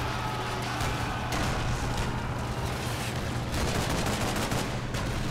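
BAR automatic rifle fire in Call of Duty 3 on a battlefield, continuous loud bursts of gunshots over dense combat noise and a low droning hum, with no pause throughout.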